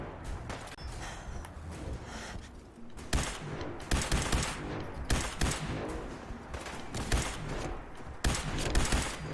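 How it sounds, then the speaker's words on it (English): Gunfire in Fallout 4's Far Harbor: a rapid volley of sharp shots and bursts, loud and near, clustered in the later part over game ambience, with a quieter stretch at the start. "Someone's shooting me from the side."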